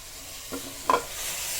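Potatoes, peas and cauliflower are stir-fried in a pan for Sindhi curry: a brief moment of soft frying hiss with two quick scraping stirs, close and quiet, no voices.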